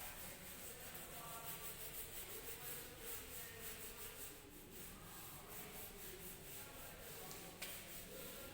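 A board eraser rubs across a classroom board in continuous scraping strokes, steady and fairly close, with no talk over it.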